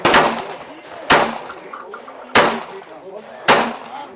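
Four single shots from a Sphinx SDP Compact 9mm pistol, each a loud sharp crack with a brief ringing tail, fired at roughly one-second intervals at close range with no talk.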